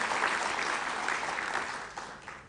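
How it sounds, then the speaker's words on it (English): A room full of people applauds the WIPO Director General at the official opening of the ARIPO Council of Ministers, dense steady clapping that fades toward the end. "One more time, a round of applause for him"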